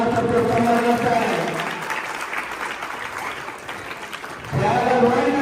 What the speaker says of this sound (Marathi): जोरदार टाळ्या वाजवण्याचा प्रयत्न करत आहे।